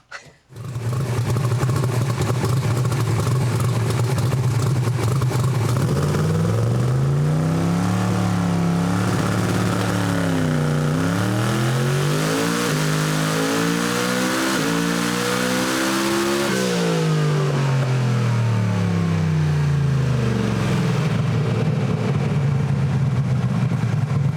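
A Camaro race car's boosted engine, running 12 pounds of boost, revs loud and close, climbing and falling in repeated sweeps up to about 8,500 RPM, with a steady roaring drone throughout and no talk.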